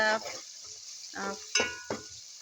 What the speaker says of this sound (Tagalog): 2 to 3 minutes we have to saute this garlic and onions